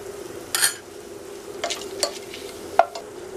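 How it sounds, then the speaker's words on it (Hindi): Fenugreek seeds and asafoetida sizzling in a tablespoon of hot oil in a pan while making kadhi, with a low steady fry hiss under a few scattered scrapes and clinks of a spoon against the pan, quiet and near. "1 टेबलस्पून तेल डालेंगे, 1/2 टीस्पून मेथी दाना, मेथी दाना थोड़ा लाइट ब्राउन हो गया है, 1/2 टीस्पून हींग"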